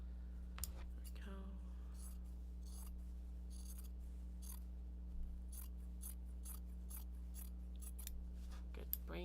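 Scissors snip through Japanese cotton fabric pieces, a series of quiet, close crisp cuts spaced irregularly over a faint steady hum, with a soft voice briefly audible.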